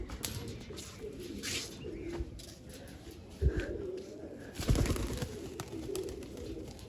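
Soft cooing of white-eyed pigeons and a brief flutter of wings, faint against a steady background hiss.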